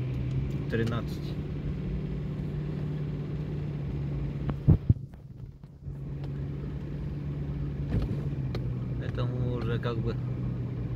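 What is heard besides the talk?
car driving on road out of Yakutsk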